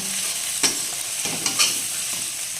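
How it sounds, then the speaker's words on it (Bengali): Spice paste of cumin, chili and turmeric powders fries in hot oil with a constant sizzle, while a spoon scrapes and stirs through it in a few distinct strokes, with no talking. "তো মশলাটা তেল ছেড়ে বেরিয়ে এসেছে এর মানে আমার এখানে মশলাটা কষা হয়ে গেছে"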